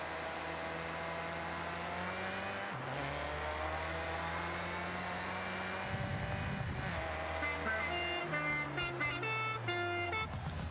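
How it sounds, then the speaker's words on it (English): Engine drone and revving of a Honda in the video game Forza Horizon 6 run throughout, with horn-like tonal blares sounding in steady stretches, ending in a bright burst of layered tones. "honking my horn should hopefully count"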